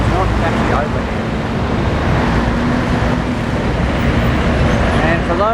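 Dense, unbroken road traffic in Manila, a loud continuous roar of cars, buses and trucks close by, with engines rumbling and no break in the flow.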